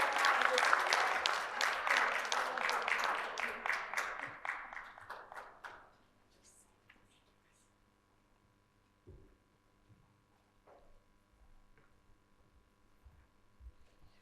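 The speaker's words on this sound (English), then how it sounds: "Big round of applause, everybody." Conference audience at a women's progress forum giving a loud round of applause that stays steady for about four seconds, then fades out by six seconds into a quiet room with faint stray sounds.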